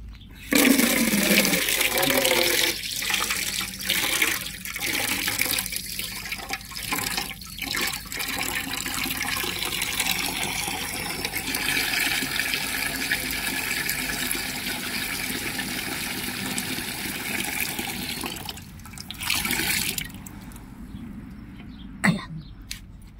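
Water pours and splashes steadily for a long stretch, with a couple of throat clearings or coughs early on, ending with a gurgling drain.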